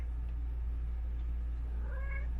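A cat inside an RV gives one short meow near the end, faint, over a steady low hum and the patter of rain outside.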